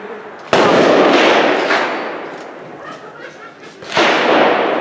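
Loud tactical shotgun blasts, two sharp booming reports a few seconds apart with echoing decay between them, outdoors at a range.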